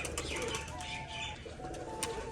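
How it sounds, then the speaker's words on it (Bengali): A flock of Rajshahi pigeons, released all together, flap their wings in a quick fluttering rush, with soft cooing mixed in, fairly faint and brief. "পায়রাগুলো এখন সব একসাথে ছেড়ে দিয়েছি"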